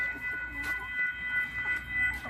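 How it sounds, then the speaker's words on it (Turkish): A train approaches through a rural village: a steady, wavering horn-like tone holds over a low rumbling background, moderately loud and fairly distant, with no voices. "Artık tren de geliyor."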